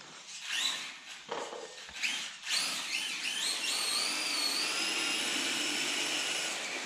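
Sakura D3 RC drift car electric motor revved at full throttle, a rising high-pitched whine that climbs and then holds steady and loud after a few short bursts.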